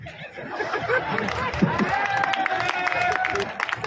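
A live audience claps and laughs together in a steady, dense wash of chatter and chuckles that fills the whole stretch at moderate loudness.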